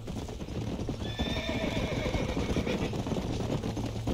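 Horse hooves clop steadily while a horse whinnies, with a low engine-like hum underneath; horses in the video game Red Dead Redemption.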